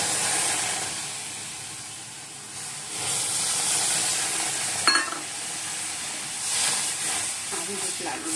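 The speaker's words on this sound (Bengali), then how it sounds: "এবার এই জন্য দুধটা দিয়ে দেবো" Milk is poured into semolina frying in a pan, giving a continuous steamy hiss and sizzle, with a sharper sputter partway through and faint stirring noises.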